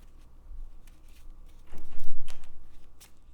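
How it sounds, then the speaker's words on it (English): Marvel Champions playing cards being shuffled up close in a tabletop game, a short burst of soft papery riffling and snapping in the final half of the moment, with no voices. "We're going to shuffle up."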